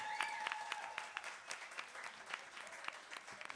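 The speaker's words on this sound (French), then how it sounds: "applaudissez le groupe" At a school battle-of-the-bands show, the crowd applauds the band with scattered, fairly distant claps, some sharp individual hand claps standing out over a soft background.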